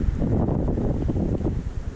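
Steady wind blows across open ice at an ice-fishing spot in late season, a continuous low rumbling buffet with gusty swells close on the microphone, with no talking.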